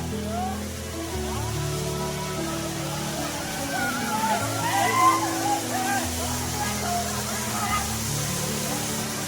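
Falls near Amboli and the Badkundre Laxmi Devi temple rush in a steady, full wash of water throughout, with people talking over it.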